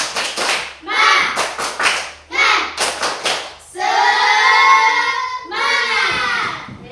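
A class of children stands and performs a rhythmic 'tepuk semangat' clap chant, with loud bursts of clapping in a patterned rhythm, followed by the group shouting together.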